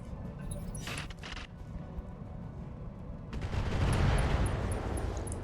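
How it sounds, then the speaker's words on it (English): An AC-10 ammo explosion in a mech video game plays as rumbling, crackling blasts. It swells into a loud, sustained roar of detonations with bursts of gunfire-like pops. "AC-10 ammo explosion."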